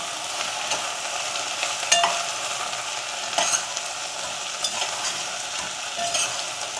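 Okra and spices being stirred in a pan, a steady bright sizzle broken by repeated scraping clicks of the spoon against the pan, close and moderately loud, with no speech.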